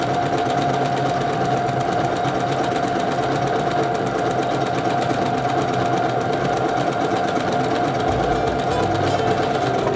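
Janome Skyline S5 sewing machine quilting a metallic thread trim, running at a steady fast hum with a continuous rapid needle rhythm throughout, close and loud.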